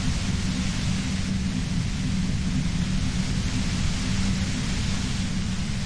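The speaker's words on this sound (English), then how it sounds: "You hear through the white noise. It's especially bad suddenly." Steady broadband static hiss from the Disco Elysium video game, a continuous dense noise with a heavier low rumble underneath, loud and unchanging throughout with no voices.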